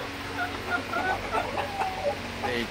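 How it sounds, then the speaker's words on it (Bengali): Large Brahma chickens on a small farm flock, a hen weighing around 4 to 4.5 kg, cluck in a steady run of short, fairly close calls with a few overlapping voices. "এটা হচ্ছে আমার ব্রাহ্মা মুরগি"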